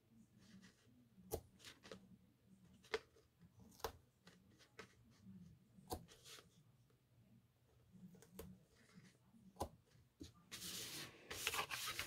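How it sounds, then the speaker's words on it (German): Adhesive tape being applied to the flaps of summery pink paper packaging: quiet rubbing and smoothing with sharp taps and clicks at intervals, then a louder tearing rustle at the end. "Und da ich jetzt gerade mit Klebeband arbeite"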